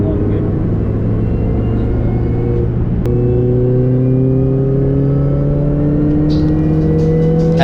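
A budget Mini Cooper S R53 on a track day, heard from inside the cabin: a loud, steady engine drone climbs in pitch under acceleration, with a brief shift click partway through before the revs rise again.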